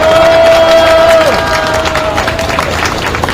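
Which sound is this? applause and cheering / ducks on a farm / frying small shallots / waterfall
applause and cheering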